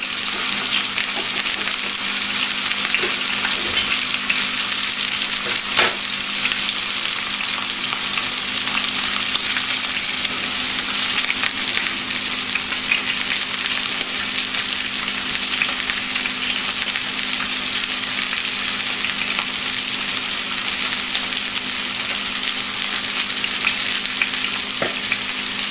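A beef top sirloin steak sizzles in a hot skillet, a steady, loud, unbroken frying hiss that runs throughout with no talking.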